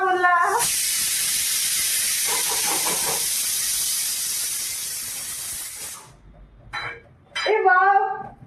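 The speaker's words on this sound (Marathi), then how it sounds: "कुकर पुन्हा बोलला" A pressure cooker whistle lets out a long, loud hiss of escaping steam for several seconds in a home kitchen, then cuts off abruptly, with a voice speaking before and after.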